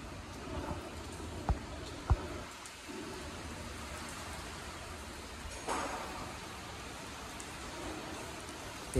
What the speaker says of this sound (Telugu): అయితే ఫుల్ వర్షం పడుతుంది.